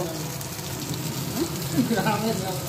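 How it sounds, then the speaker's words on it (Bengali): Hilsa fish fries in a pan of oil, giving a continuous close sizzle with small crackles, and a voice murmurs faintly over it. "ইলিশ মাছ ভাজা হচ্ছে"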